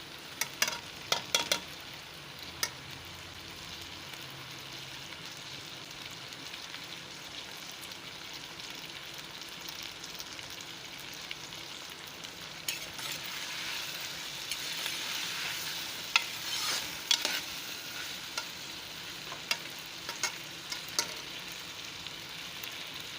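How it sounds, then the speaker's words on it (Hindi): Okra (bhindi) frying in oil gives off a long, steady crackling sizzle, close and moderate in level, with occasional sharp pops and stirring clatter and no talk. "ये मैं भिंडी फ्राई कर रही हूँ।"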